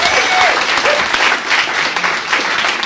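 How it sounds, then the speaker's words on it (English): A theatre audience applauds a stand-up comic named Wendy at a student comedy showcase, steady dense clapping filling the room without letup and no voices over it. "Give her a big round of applause."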